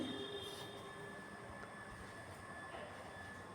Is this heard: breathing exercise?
no